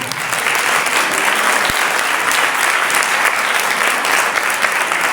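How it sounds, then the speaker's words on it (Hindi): A congregation claps at a church sermon, producing a loud, dense and even burst of applause that continues unbroken for the whole stretch without talking. "हाथों वाले ताली बजा सकते हैं।"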